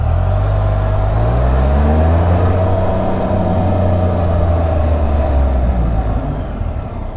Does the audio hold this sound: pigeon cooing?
no